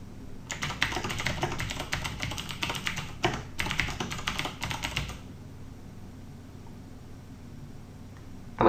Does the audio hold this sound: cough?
no